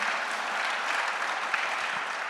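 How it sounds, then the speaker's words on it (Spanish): Church congregation applauding during a service, a dense, even burst of clapping at moderate loudness that holds steady for a couple of seconds. "Dale un buen aplauso a Jesucristo en esta mañana."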